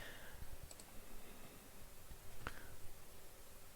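Mouse clicks while working in CATIA V5 CAD software, a few faint, sharp isolated clicks in a quiet room with no talking.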